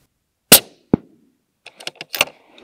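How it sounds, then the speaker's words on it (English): Rifle shots firing .20 BRA ammunition outdoors, a few sharp cracks separated by silence, followed by a cluster of quieter clicks and knocks. "I'm gonna quick shoot up the rest of this ammo here."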